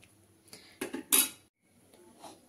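A spatula scrapes and clinks against a pot as rice is stirred into milk for jaggery payesh, a few short knocks and scrapes close by, then a faint softer stir.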